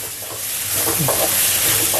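Onion, ginger and garlic frying in a pan, a steady close sizzle with soft stirring scrapes rising through the mix, no voices over it.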